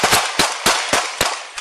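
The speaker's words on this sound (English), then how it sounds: "You can hear the officer reloading his gun as bullets ring out" Rapid gunshots crack out one after another, five sharp loud bursts in quick succession with short ringing decays between them, during a police shootout with deputies.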